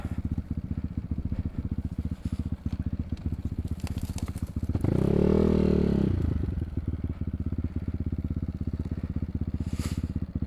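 An enduro motorcycle rides down a dirt track, its engine chugging in a steady rapid pulse with rattling and crunching, surging into a louder rev midway before settling back, heard close up.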